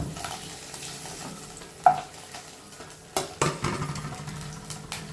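Food fries in hot oil in a kadai, a soft ongoing sizzle broken by clinks and scrapes of stirring and a few sharper knocks against the pan, close and fairly quiet with no talk.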